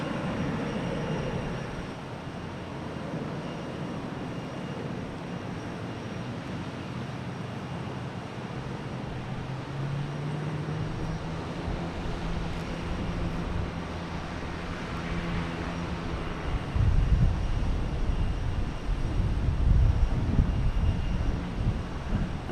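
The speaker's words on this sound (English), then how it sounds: "Now we got Spirit Airlines taking off, heading to Myrtle Beach." A Spirit Airlines airliner takes off from Boston Logan bound for Myrtle Beach, its jet rumble building steadily and swelling louder near the end as the engines pass closer.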